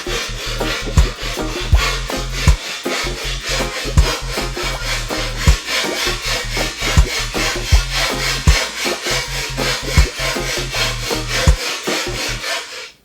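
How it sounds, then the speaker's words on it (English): Whole nutmeg rubbed against a grater in a home kitchen while making a fibre punch drink, giving a steady run of rapid, close scraping strokes with a regular back-and-forth rhythm, no voices. "And I grate our nutmeg."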